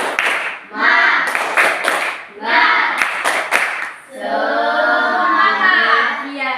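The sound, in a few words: group rhythmic clapping chant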